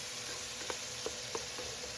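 Onions fry in bacon grease with a steady, even sizzle, broken by a few soft stirring taps, and no talking.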